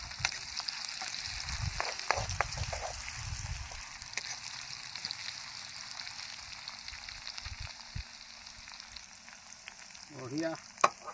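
Onion, garlic and ginger sizzle and fry in a pan for a chicken kol posola dish, with a spoon stirring in irregular scraping strokes over a steady frying hiss, moderately quiet and close.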